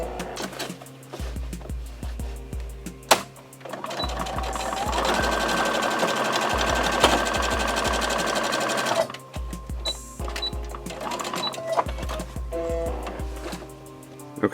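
A sewing machine runs in several fast bursts, top stitching a seam on a messenger bag, with a loud, close mechanical whir and short pauses between runs.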